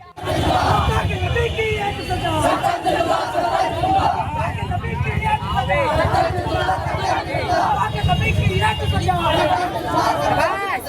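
An angry protest crowd in Kanpur shouts and chants slogans together. The loud, continuous mass of voices fills the whole stretch without any break.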